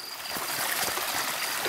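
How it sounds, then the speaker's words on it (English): Steady rushing and trickling of a flowing creek, close and continuous, with no voices. "See this creek?"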